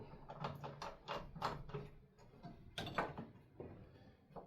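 Fasteners being tightened while a LatheEngraver is mounted on its platform: quiet, close ratcheting clicks and metallic turning in short bursts, with brief pauses between them.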